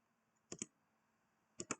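A computer keyboard in a quiet room gives two quick pairs of soft key clicks about a second apart, as the Enter key is pressed.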